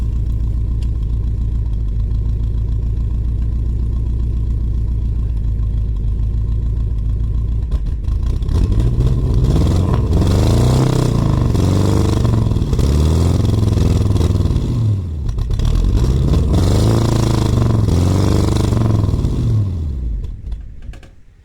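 The engine of a 1965 Ford Thunderbird parts car idles steadily, then revs hard in two long throttle sweeps that climb and fall, loud and close, before cutting off at the end.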